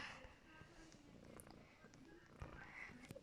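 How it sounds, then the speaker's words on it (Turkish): Soft, steady purring from a cat close by, a low continuous rumble with faint background noise and a few small bumps. "Yanıma kedi geldi."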